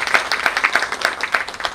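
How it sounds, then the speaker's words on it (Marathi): Audience applause at a Marathi book launch event, a steady burst of many hands clapping close and loud throughout, with no voices over it. "टाळ्या वाजवूया."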